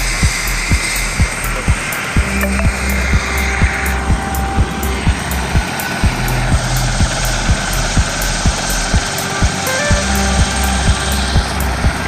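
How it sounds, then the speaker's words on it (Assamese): A helicopter lifts off from a helipad in Duliajan, its rotor beating in a steady rapid thump over a loud continuous engine whine that fills the whole stretch, close and powerful with no voices. "এতিয়া হেলিকপ্টাৰখন আমাৰ ইয়াৰ পৰা উৰি যাবগৈ"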